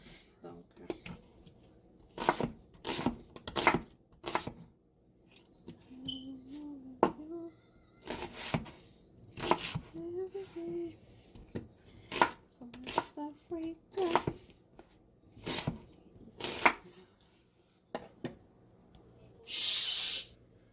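Knife chopping tomatoes, green and red peppers and onions for a homemade tomato sauce, heard as irregular sharp cuts in clusters close by, with a voice speaking in between and a brief spray-like hiss at the end.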